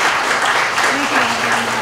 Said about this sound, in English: I would like you all to give these folks a wonderful round of applause